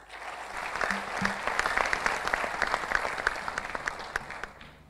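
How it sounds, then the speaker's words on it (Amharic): Audience at a student quiz competition bursts into warm applause, dense clapping that rises quickly, holds steady for several seconds and tapers off at the end. "ሞቅ ያለ ጭብጨባ አሰሙ"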